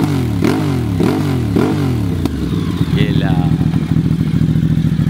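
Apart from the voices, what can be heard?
V-twin motorcycle exhaust revving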